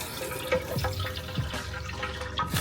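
Water rushes steadily out of a cracked-open plumbing line during winterization, a continuous close hiss and gurgle with a few splashy surges and no voices.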